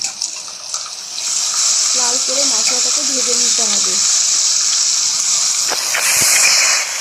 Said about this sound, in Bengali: আর হলুদ দিয়ে এটাকে ভালো করে লাল করে মশলাটাকে ভেজে নিতে হবে।